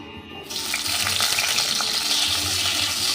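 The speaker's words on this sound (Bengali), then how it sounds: "কাঁচা টমেটোটাও আর একটু ভেজে নেব" Raw tomato fries in hot oil in a pan, a dense steady sizzle that starts abruptly and continues loud and close without a break.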